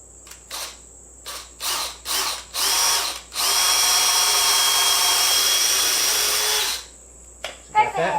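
A power drill bores a hole in wood while building a rabbit hutch: several short bursts of whirring, then one long steady run of a few seconds before it stops, followed by faint handling noises.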